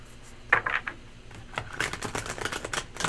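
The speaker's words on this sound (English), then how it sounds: "More shuffle." A deck of tarot cards is shuffled in several quick riffling bursts, crisp papery flutters close to the microphone with short pauses between.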